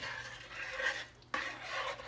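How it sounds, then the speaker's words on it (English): Apple butter mixture is stirred in a pot, giving a soft, continuous scraping and rasping with brief gaps and one sharp knock partway through, close by and with no voices. "And now we're going to stir this up."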